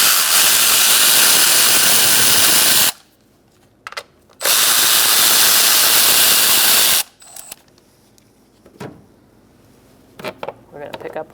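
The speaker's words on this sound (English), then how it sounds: "Using a 10mm socket, we're going to take out these two nuts." A power tool spins a 10mm socket to remove nuts on the engine of a 2002-2006 Toyota Camry during valve cover removal, two loud sustained whirring bursts separated by a pause, followed by light clicks and handling noise.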